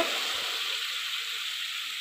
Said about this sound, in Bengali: 5 রকম সবজি ভাজা হয়ে গেছে